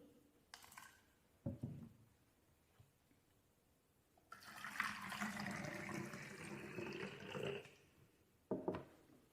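Liquid is poured into small bottles for a fungus fermentation experiment: a few short knocks and clinks, then a steady several-second pour with splashing, ending with another brief clatter. The sounds are fairly quiet and there is no talking.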